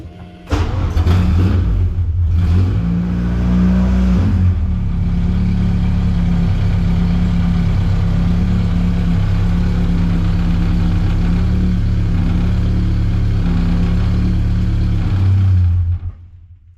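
A racecar engine cranks and fires up, then settles into a loud, steady, low idle close by for over ten seconds before cutting off near the end.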